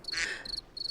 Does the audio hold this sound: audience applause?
no